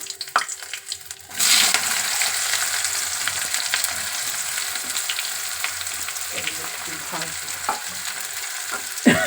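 Garam masala sizzles in cow ghee in a kadai for mutton biryani, a steady loud frying hiss that starts abruptly after a quiet first second and continues with light stirring clicks.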